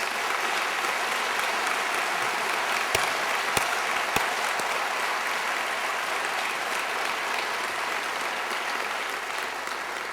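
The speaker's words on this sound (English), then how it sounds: "Ryan, please stand up so everybody can give you a round of applause." An audience at the 2012 New Orleans State of the City address breaks into sustained applause, a dense, even wash of clapping from a large crowd lasting throughout, with a few sharper claps near the start.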